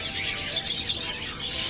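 Pure white birds chirp in a dense, continuous chatter of high tweets that carries through the whole moment without pause.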